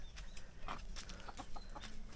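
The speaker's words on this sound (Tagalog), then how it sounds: "Native chicken." Native chickens on a farm in Catanduanes cluck faintly in the distance, scattered short clucks over a steady outdoor background hiss.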